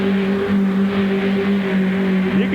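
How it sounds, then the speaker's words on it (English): A big four-wheel-drive pulling truck at a 1989 truck pull in Owensboro, Kentucky holds a loud, steady engine drone with a strong low hum, running close and continuously without speech. "just listen to the engine."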